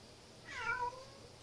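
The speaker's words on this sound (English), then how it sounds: "And that's my cat." A domestic cat lets out a single clear meow, close and moderately loud against a quiet room, rising and falling over about half a second.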